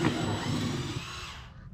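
A power drill whirs steadily for about a second while drilling a hole to mount panniers on a 2009 Harley-Davidson Fat Bob, then winds down and fades to quiet, close by.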